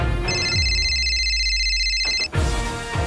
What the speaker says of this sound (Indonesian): aku harus telepon Om Tony nih